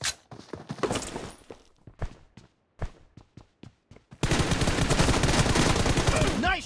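Gunfire in the mobile shooter PUBG Mobile: a string of sharp single shots spaced irregularly, then a loud, dense burst of continuous automatic fire for the last couple of seconds, close and punchy.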